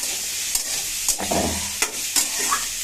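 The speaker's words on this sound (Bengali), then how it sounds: "আমি কুমড়ো ভাজা করছি" Pumpkin sizzles and fries steadily in a pan, with a few scraping stirs of a utensil breaking through the constant crackle.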